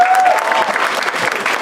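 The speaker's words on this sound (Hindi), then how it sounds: "रनमल भाई, तालियां बजती रहनी चाहिए।" An audience claps and cheers as a poet, Ranmal Jain, comes onto the stage at a comedy and poetry gathering, dense loud applause running throughout the short moment.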